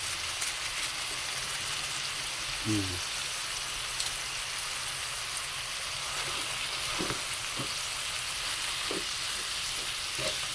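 Kangkong (water spinach) sautéing in a pan for chicken adobo, a steady, even sizzle like light rain, with a few soft stirring clinks over the hiss.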